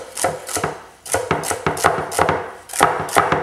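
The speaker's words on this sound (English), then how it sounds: "If it's a little bit wide, I'll cut it and break it down a little bit so it's a little bit smaller." Knife chopping celery on a cutting board in a home kitchen for chicken stock, a steady series of crisp, close thunks in uneven bursts.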